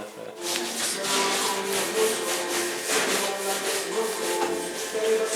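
A surface is rubbed and scrubbed to wipe off dust in a workshop space, giving a steady, close, rhythmic back-and-forth scraping of even loudness throughout.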